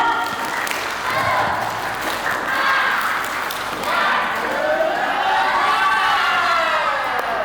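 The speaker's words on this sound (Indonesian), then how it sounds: "Tepuk semangat." Seated adults at a PKBM community learning centre gathering break into a group spirit clap, a dense, loud and steady wash of hand claps with crowd voices mixed through it.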